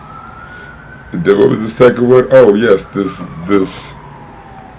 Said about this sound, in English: Sorry about the siren in the background. I live in a busy spot.